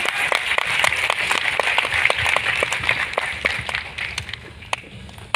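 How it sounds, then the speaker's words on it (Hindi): An audience at a Safe Shop recognition event claps loudly, a dense patter of individual claps that rises and then gradually thins out. "जोरदार तालियां"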